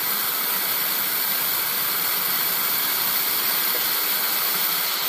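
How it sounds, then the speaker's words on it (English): HHO torch with a fluid-cooled tip burning in turbo mode, a steady broadband roaring hiss, loud and unbroken for the whole stretch with no voices. "I'm going to do the turbo effect on it to observe how that flame gets shorter"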